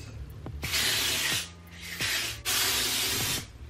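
Black hair spray sprayed onto a hairline, two long loud hissing bursts separated by a short pause, preceded by faint clicks, close by with no talking.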